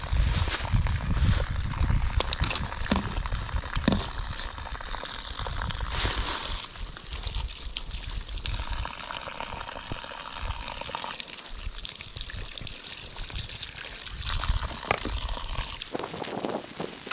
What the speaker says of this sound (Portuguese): Dá uma enxaguada aqui. Depois vou dar outra enxaguada lá.